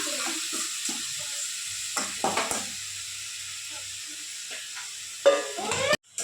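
Soft sizzling with intermittent scraping and stirring of food in a pan, a few louder clatters near the end.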